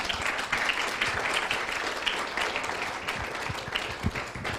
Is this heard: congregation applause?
yes